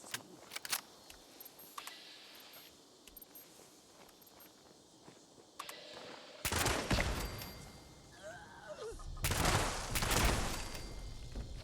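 Gunfire in the video game Fallout 76 breaks out after quiet footsteps and clicks, with bursts of rapid shots in the second half, fairly loud against a faint background.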